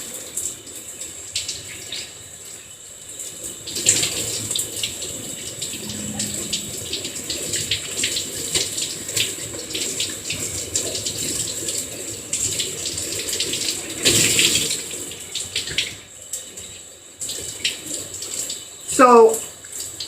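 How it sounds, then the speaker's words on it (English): Water runs steadily from a tap while dye is rinsed from long hair locs, a continuous close splashing hiss with occasional louder gushes and clunks as the hair is moved under the stream. "I will be back once I am done rinsing all of this craziness off"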